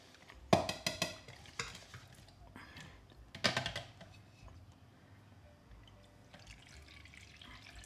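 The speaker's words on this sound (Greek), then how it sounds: "έχω αφήσει εδώ μία μικρή ποσότητα μούστο και θα το ανακατεύω" Grape must for Greek moustalevria is stirred in a pot, giving soft, intermittent sloshing and clacking strokes, close but fairly quiet, with a few sharper knocks early on.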